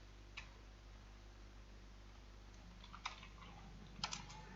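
Soft typing on a computer keyboard, a few faint scattered key clicks over a low steady hum, with a small cluster of taps near the end.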